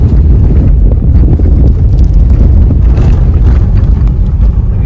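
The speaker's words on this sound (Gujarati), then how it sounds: "પવન થઈ ગયો" Heavy wind buffets the microphone in hilly country near Dwarka, a loud, continuous low roar and rumble, gusting throughout without pause.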